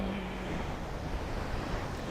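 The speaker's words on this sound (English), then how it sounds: "connecting with this wonderful ocean behind us here in Laguna Beach" Ocean surf at Laguna Beach, California, a steady broadband wash of waves with some wind noise, continuous and fairly faint, with no voices.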